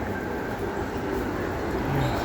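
A Sydney H set suburban train rumbles steadily at a station, a continuous low, even drone with no clear voices.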